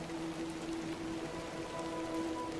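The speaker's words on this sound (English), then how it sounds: "Little rain is no bother." Steady rain falls across an outdoor scene in the video game The Excavation of Hob's Barrow, a continuous dense patter with a faint tonal hum underneath and no voices.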